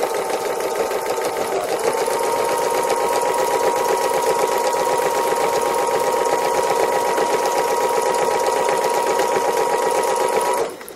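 A sewing machine stitches free motion embroidery on a cow design in one loud, continuous, close motor hum with rapid needle chatter, running steadily for several seconds before stopping at the very end.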